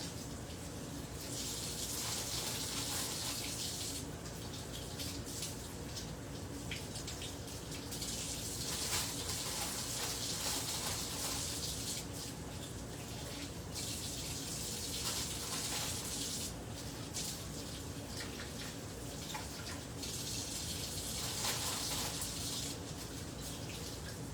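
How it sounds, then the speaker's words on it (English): Water runs from a kitchen tap over mushrooms being rinsed, a continuous close splashing stream that swells and eases as the mushrooms are moved under it, with no talking. "So, rinsing mushrooms right now."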